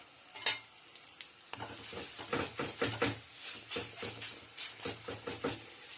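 Harcha, semolina flatbread seasoned with herbs, frying in oil in a pan: a steady close sizzle with soft stirring and scraping pulses and an early clunk.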